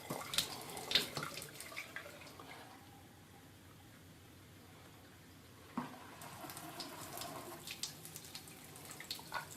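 A newly installed bathroom sink faucet runs with weak pressure, a soft steady stream of water with louder clatter and splashing at the start and again after a brief quieter stretch.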